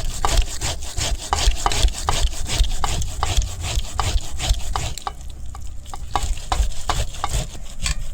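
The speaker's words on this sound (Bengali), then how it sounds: "গ্রেটার লইয়া ওরকম গ্রেট করিলিম" Softened palm fruit pulp rubbed against a grater in quick rhythmic strokes, a rasping scrape repeating steadily and close up, with no one talking.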